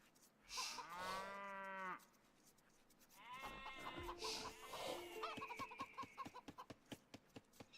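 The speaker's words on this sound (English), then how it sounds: "It's a bunch of cows in the center." Several cows moo in a video game, with long drawn-out lowing calls one after another at moderate distance, followed by a run of quick rhythmic clicks or taps with no talking.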